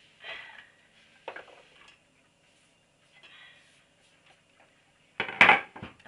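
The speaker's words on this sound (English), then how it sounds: "we're going to put them in the pan with the sunflower oil" Small, thinly cut potatoes and onion tipped into a large pan with sunflower oil: a few scattered clatters and scrapes, ending with one louder, close clattering burst as the pieces land.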